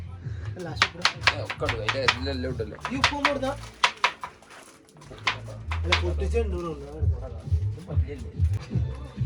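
Onions being chopped in a kitchen while cooking on a trip, with a run of sharp knife taps against a board that pauses briefly and then resumes, heard under near, steady talking.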